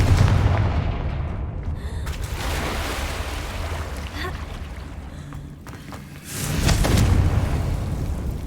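Confringo spell blasts in Hogwarts Legacy with a heavy booming burst near the end, following an earlier impact and a stretch of muffled rumbling ambience; the explosions are loud and close.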